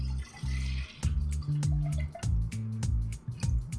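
Milk is poured into a pot on a stove set to low heat, making close, wet splashing and glugging with a series of drips and small pulses. No one speaks.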